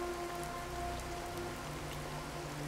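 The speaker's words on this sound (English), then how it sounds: "The only thing that could be heard was the sound of rain dumping on top of the car." Heavy rain pours steadily onto the roof of a car, a continuous dense drumming with no gaps, close and fairly loud throughout.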